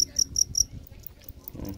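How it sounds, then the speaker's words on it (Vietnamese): Crickets chirp beside a fishing lake, a quick steady series of close, bright pulses that fade into a softer continuing trill over quiet ambient background. "Nè, có dế luôn nè, đang câu cá mà có dế, dế gáy dữ nè."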